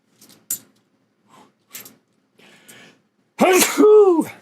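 Quiet scattered clicks and small breaths, then a single loud, close sneeze bursts out near the end.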